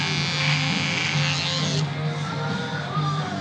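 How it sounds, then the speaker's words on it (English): Electric hair clipper buzzing steadily while it trims a man's beard, anchored under the chin, a close continuous hum that shifts slightly in tone midway. "I'm anchoring the clipper off his chin"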